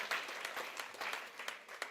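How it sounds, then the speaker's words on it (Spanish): A church congregation applauds, with steady overlapping claps at moderate distance filling the two seconds, fairly quiet overall. "Den un aplauso al Señor."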